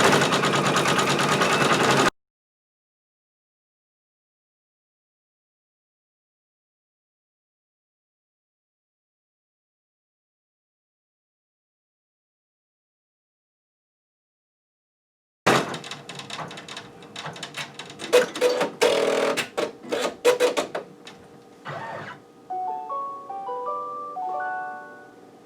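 A computerized embroidery machine stitching a design from a file: a short burst of steady mechanical whirring, a long silence, then the machine running again with rhythmic stitching, clicks and a thread-cutting sequence, close by.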